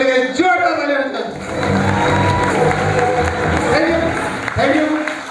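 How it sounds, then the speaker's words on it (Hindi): A crowd at a Safe Shop leadership speech in India claps and cheers loudly, with whoops and shouting voices rising and falling over the sustained applause. "जोरदार तालियां बजाओ।"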